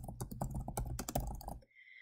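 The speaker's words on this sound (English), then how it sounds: "So you'll type in the name of your quiz or assessment." Typing on a computer keyboard: a quick, close run of crisp key clicks and clacks in an irregular rhythm that stops abruptly near the end, leaving brief quiet.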